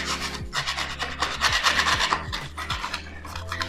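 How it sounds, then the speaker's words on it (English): A blade scrapes back the rough, worn edge of skateboard grip tape in steady, close rasping strokes with repeated pulls, loud and continuous with no talking. "If it's rough, like it is here where the grip feels been, I'll get my blade and just scrape it back."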